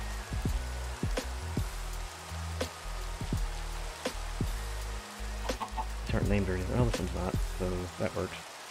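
Chickens cluck in a video game, short repeated calls coming in bursts over a steady backdrop of game music and ambience, growing busier and more layered toward the end.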